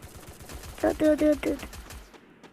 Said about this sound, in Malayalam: ആര് വെടി വയ്ക്കുന്നു?